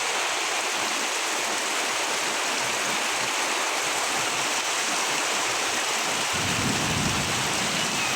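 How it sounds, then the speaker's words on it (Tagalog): Heavy rain pours down steadily in a rural province, a dense unbroken hiss that swells louder near the end, with no voices. "Ayan, lakas ang ulan."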